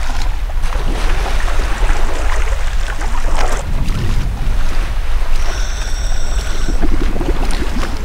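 An Akula submarine in a video game rushes through water with a steady, loud wash of churning noise and wind-like hiss, and a faint tonal whine rising partway through.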